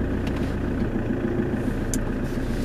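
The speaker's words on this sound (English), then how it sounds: "I am just taking out the car." A car engine idles steadily close by as it is taken out, a low continuous hum with no voices over it.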